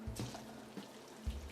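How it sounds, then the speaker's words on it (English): Hot water pours into a container on a desktop cooking setup, a short watery trickle with a few soft splashing surges and clunks, heard quietly and close with no talk. "Now we can go ahead and get that put into our container"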